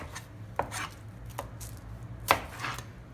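A knife cuts through the tip of an onion on a board, producing three or four sharp, quiet chopping clicks at an uneven pace, close up with no talking.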